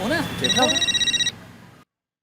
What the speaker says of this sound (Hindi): जेठालाल का फोन आया।